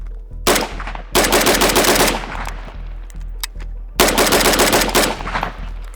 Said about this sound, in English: Let's fire a few rounds and see how this goes.